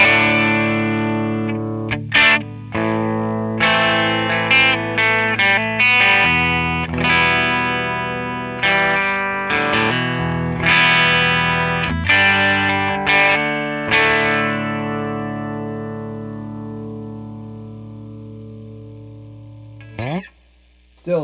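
Tube amp with an attenuator, pushed until the electric guitar starts to overdrive: a long stretch of strummed chords and short choppy stabs, distorted and fairly loud, with pauses and a few muted hits near the end.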